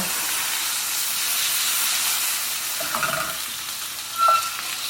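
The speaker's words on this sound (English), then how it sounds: "I'm going to throw in some diced tomatoes with their juice." Diced tomatoes with their juice sizzling in a hot pan, a broad steady hiss with a few small pops and bubbling spurts near the end, heard close up with no talking.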